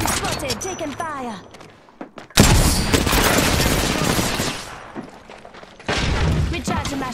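Gunfire in a video game erupts after a spoken line, a loud dense burst of shots and impacts that fades, then resumes sharply near the end, with voices heard at the start.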